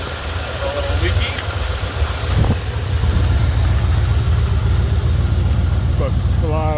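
A 1977 Ford F250 pickup engine with a carburetor runs at a rough, steady idle, close and loud, while people talk over it intermittently.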